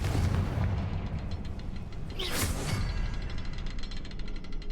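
Confringo fire spell explosion in a Harry Potter video game, a sharp booming blast in the middle followed by crackling fiery rumble against a continuous game backdrop.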